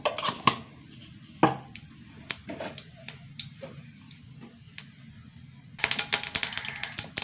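Mustard seeds splutter in hot oil in a pan. A few scattered sharp pops and ticks come first, then a sudden burst of dense, rapid crackling sets in near the end.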